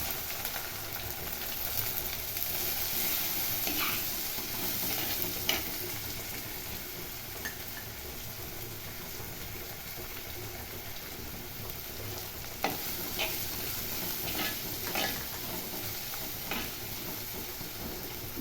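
Onions frying in hot oil in a pan after mustard seeds have spluttered, while cooking a stuffed okra masala, giving a continuous close sizzle with occasional sharper crackles and stirring clicks throughout, no voices.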